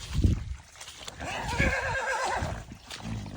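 A horse whinnies loudly and close, a wavering neigh lasting about a second and a half, framed by low thuds and shuffling of hooves in a stable setting.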